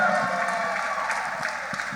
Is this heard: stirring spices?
no